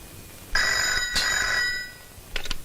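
A telephone rings in an electronic trill, one burst followed by a second ring and the start of a third, loud and close with no talking.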